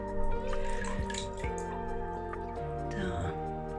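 Canna 'Pretoria' rhizomes are rinsed in plain water, giving soft drips and small splashes over a steady tonal background like music.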